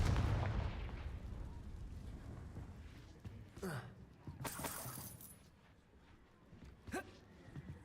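Confringo fire spell in Hogwarts Legacy, a sharp blast followed by crackling bursts and a few quick impacts, fairly faint, with a voice speaking around them.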